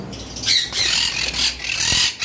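Moon parrots kept at a bird farm give harsh, close, loud squawks, several rasping calls in quick succession with brief gaps between them, with no talking.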